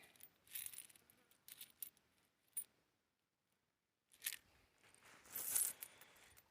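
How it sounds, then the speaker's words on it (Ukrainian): Coins from a bag found while clearing out a house are handled and let fall, giving scattered light metallic clinks and jingles in short bursts with quiet pauses between, close and faint. "отака ось кількість монет."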